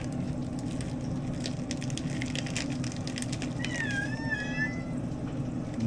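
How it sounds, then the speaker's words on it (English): A cat meows near the end, a couple of drawn-out rising cries, over sizzling and kitchen clatter while turkey sausages cook. "never fails, here comes the kitty cats"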